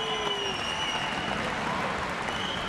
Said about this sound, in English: let's have a nice round of applause for both fighters, please